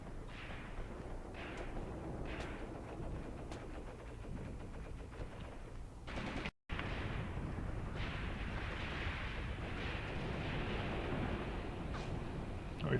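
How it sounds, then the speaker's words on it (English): Maxim machine guns firing in the WWII tactics game Graviteam Tactics, distant rattling bursts and booming reports rolling under a continuous battlefield rumble, with a brief dropout midway. "And here go the tracers from Maxim guns."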